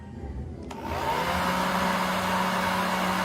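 A hair blower drying hair after an at-home DIY rebond straightening switches on less than a second in and then runs as a steady, loud, close whoosh with a constant motor hum. No one speaks.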